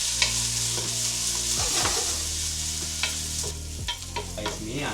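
Curry leaves, ginger, garlic, onion, green chili and cinnamon bark sizzling in a hot pan, a loud steady fry with repeated close scrapes and clacks of a spoon stirring through it.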